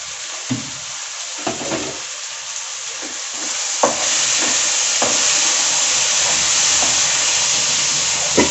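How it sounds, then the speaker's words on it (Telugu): Brinjal pieces for a Nellore-style tamarind pulusu are mixed in a covered pot, giving a steady sizzling hiss broken by several sharp scrapes and knocks of the spoon, close and fairly loud, with no voices. "ఇప్పుడు మనము ఈ వంకాయలు మగ్గుంటాయండి మూటేసి కలుపుకుందాము"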